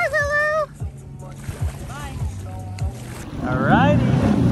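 A jet ski runs on a lake with a steady watery engine rumble and splash that swells toward the end, while voices and high calls are heard over it outdoors.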